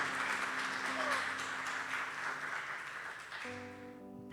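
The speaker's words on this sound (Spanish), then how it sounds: "Ven, dale un fuerte aplauso al Señor." A church congregation applauds loudly, a broad, steady wash of clapping that fills the room and fades slightly toward the end, with sustained musical tones rising underneath in the final second.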